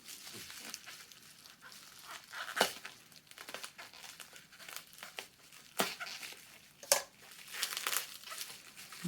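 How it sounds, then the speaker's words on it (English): Bubble wrap packaging crinkled and pulled away from a book with a hidden fore-edge painting, close crackly rustles and a few sharper tearing bursts, quiet between handlings. "Packed in bubble wrap, which is really, really nice."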